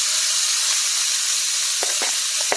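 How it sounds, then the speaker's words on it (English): Pieces of bacon sizzle in a hot cast iron wok for Louisiana jambalaya, a steady bright hiss with a few sharper pops and crackles near the end. No talking is heard. "We're going to add our bacon to our wok."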